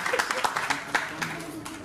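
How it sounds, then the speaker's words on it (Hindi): Audience applause at the trailer and music launch of the film 'Yeh Kaisa Tigdam', a dense patter of many hands clapping steadily throughout, with a voice talking over it. "जोरदार तालियां प्लीज।"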